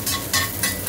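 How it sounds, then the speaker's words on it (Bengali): Onion and garlic frying in a little oil, a close, steady sizzle rising in brief bursts of bright crackle about three times in under a second, with no voices. "আমি কিন্তু খুব বেশি তেলের মধ্যে এগুলো ভাজছি না, অল্প তেল দিয়েই ভাজছি।"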